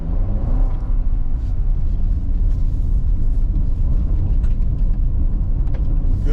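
A 2023 Jeep Compass Trailhawk 4x4 rumbles steadily off-road over gravel, engine drone and tyre crunch heard from inside the cabin, continuous and fairly loud.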